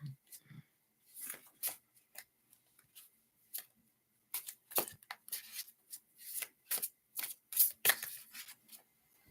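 Tarot cards are shuffled close up in quick riffling bursts separated by short pauses, crisp and fairly quiet, with no talk over them.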